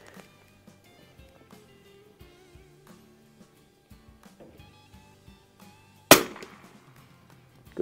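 A single sharp, loud rifle shot from a 1961 Winchester 52C fired at a spotter target on a shooting range, cracking out near the end over quiet background music with a brief decaying tail.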